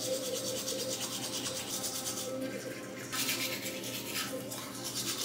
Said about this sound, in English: This is a tongue scraper.